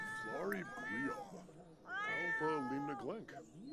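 Several cats in the life-simulation game Sims 4 meow and caterwaul in drawn-out, overlapping calls, loud and close, with short pauses between bursts.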